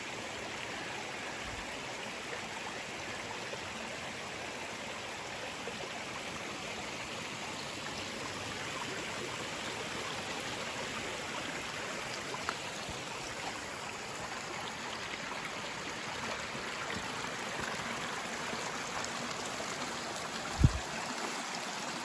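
Dennison Run, a small stream in October, flows with a steady broadband rush of water, continuous and even, with a couple of brief knocks near the end.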